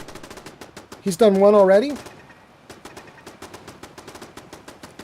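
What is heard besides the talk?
turrets firing guns in video game Fallout 4 Far Harbor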